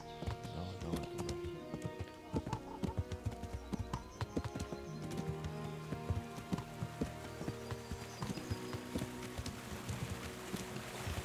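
A horse gallops in Kingdom Come: Deliverance, its hooves pounding in a fast, steady clip-clop rhythm up close, with faint wind and ambient game sounds underneath.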